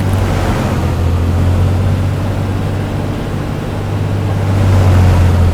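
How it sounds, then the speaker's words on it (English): A loud, steady Cessna Skylane engine drone in a flight simulator during the propeller check, with a deep propeller throb, swelling slightly in power toward the end, with no voices. "notice how the new propeller physics drive the sound engine when doing the prop check"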